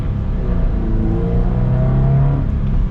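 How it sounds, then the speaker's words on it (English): A Subaru BRZ engine under partial acceleration on a Utah road, a loud, close, steady growl rising slowly in pitch over a few seconds, with no voices. "let's get like a partial acceleration here."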